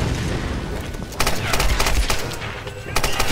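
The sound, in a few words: gunfire in the video game Tomb Raider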